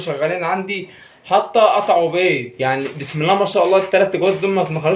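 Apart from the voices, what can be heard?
None of the usual background noises is heard.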